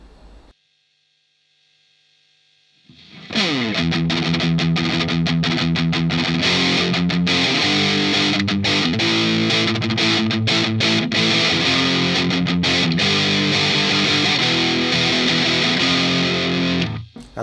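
An electric guitar played through a Boss DS-1 distortion pedal with the distortion turned up kicks in after a few seconds of near-silence, then rings out loud and saturated with buzzy, fuzzy chords and notes held steady for the rest of the passage.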